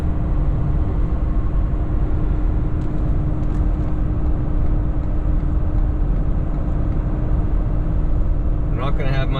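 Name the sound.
pickup truck on 37-inch tires climbing a hill while towing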